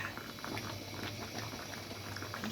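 Water with lemon heats toward a boil in a cooking pot, giving a steady low bubbling and hiss with light patter, close by and fairly quiet, with no voices.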